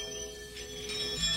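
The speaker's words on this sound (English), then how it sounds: "That's what is making the noise: camel bells." Camel bells ring in a village near India's Gir Forest, a faint, continuous metallic jingle against outdoor background noise.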